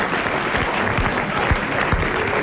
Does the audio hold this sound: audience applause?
yes